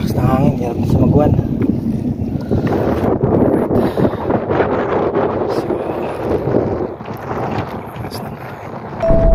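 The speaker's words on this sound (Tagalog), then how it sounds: "Malakas na hangin, hirap na sa magwan." Strong wind buffets the microphone in a steady roar while fishing, with rushing, gusting noise throughout and no clear voices.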